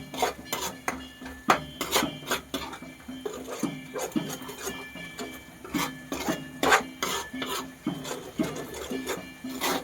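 A spoon rhythmically scrapes and stirs shole chana curry masala in a pan, producing repeated close, gritty rasping strokes in uneven bursts with brief pauses between them.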